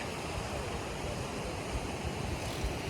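Sea waves washing in at Dunraven Bay in South Wales, near Tusker Rock, a steady broadband roar of surf mixed with wind noise, continuous and fairly loud with no voices.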